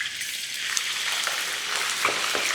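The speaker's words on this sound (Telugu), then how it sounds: "ఇక ఆయిల్ బాగా వేడైన తర్వాత ఇప్పుడు మనం ముక్క అనేది ఆయిల్లో వేసుకోవాలి." Chicken pieces fry in hot oil for chicken fry biryani, making a dense, loud, crackling sizzle with scattered pops throughout, up close.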